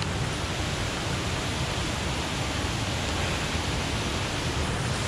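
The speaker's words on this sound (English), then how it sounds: "Definitely chasing some waterfalls" Small waterfall in Wales, heard as a steady, even rush of falling water that holds constant and fairly soft the whole time, with no talking.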